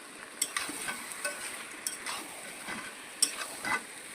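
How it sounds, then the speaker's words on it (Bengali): Chicken coated in curd masala sizzles softly in a pan while being stirred, with scattered scrapes and clinks of the spoon over a quiet, steady frying hiss. "ভালোভাবে আমি ভেজে নিচ্ছি নাড়াচাড়া করে"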